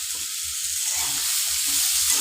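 Hog plums frying in a pan for chutney give off a loud, continuous sizzle and hiss, with low stirring thumps underneath.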